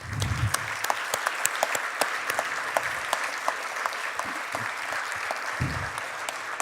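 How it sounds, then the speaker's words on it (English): Steady audience applause fills a conference keynote hall at an industry forum, dense and sustained for several seconds with sharper individual claps standing out over the crowd. "let's give them a great round of applause"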